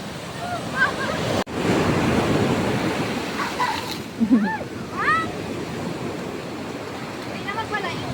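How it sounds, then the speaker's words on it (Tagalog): Strong ocean waves crash and roar in a continuous broadband wash close by, with a brief dropout and shouting voices and chatter breaking in over the surf. "Lakas ng alon mga kabatis."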